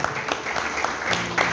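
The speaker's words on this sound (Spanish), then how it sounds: "da un aplauso de bendición a ellos" Brief, soft applause from a church congregation blessing a couple, a light patter of clapping heard at a moderate distance for just over a second.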